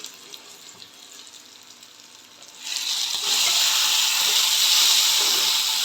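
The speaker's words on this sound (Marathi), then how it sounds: "कैरीच्या फोडी मी वाफवून घेते झाकण ठेवून त्याच्यावर." Raw mango pieces in a pan start hissing once the lid is lifted after steaming: a quiet low crackle gives way to a loud, steady bright sizzle that fills the rest of the moment.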